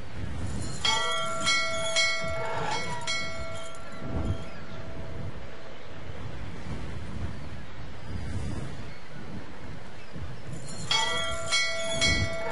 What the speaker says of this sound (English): Hello, don't you hear the bell?